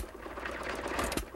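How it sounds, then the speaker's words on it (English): A 1935 or 1936 engine runs with a rapid, even mechanical chatter, steady and fairly close, with a brief sharper clank near the end. "This engine was new in 1935 or 36."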